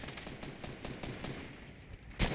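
A rapid series of faint, distant gunshots in Fortnite Mobile crackles through a noisy background, ending with a louder burst.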